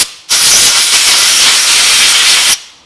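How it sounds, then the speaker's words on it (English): Compressed air blasting through a Ferguson TE-20 tractor's fuel line, a loud, steady close hiss lasting about two seconds that starts and cuts off abruptly. "So if I charge the compressor"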